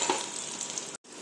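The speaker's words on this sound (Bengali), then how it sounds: "তেলের মধ্যে কালো জিরা দিলাম, প্রথমে কাঁচা লঙ্কা দিয়ে দিলাম ফেরে, তারপরে আলুগুলো দিয়ে দিলাম, প্রথমে আলুটাকে সাতলে নেব" Potatoes fry in oil with nigella seeds and green chilli, a faint, even hiss of sizzling that drops out briefly before resuming.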